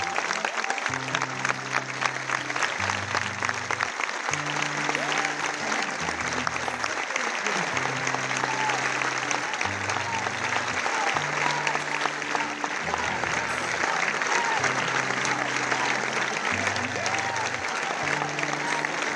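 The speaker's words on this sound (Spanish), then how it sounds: "muchas gracias por acompañarnos con el aplauso bien fuerte país" A crowd gathered in Dolores for the parents of Fernando Báez Sosa applauds steadily throughout, with a dense, sustained clapping wash over a repeating low musical pulse from loudspeakers.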